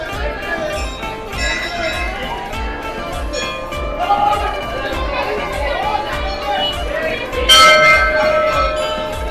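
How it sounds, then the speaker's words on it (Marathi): A large temple bell rings out with bright metallic strikes at Khidkaleshwar Mahadev temple on a Shravan Monday, over a busy crowd chattering in the background. "घंटा बघा किती मोठा आहे"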